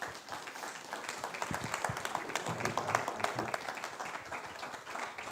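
An audience at an engineering and computing conference applauds a speaker at the end of a speech: dense, steady clapping from many hands lasting several seconds.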